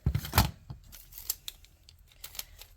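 Packing material is pulled, squeezed and torn while dishes are packed for shipping: a few sharp ripping and crinkling bursts near the start, then scattered lighter rustles and snaps, close up and without talk.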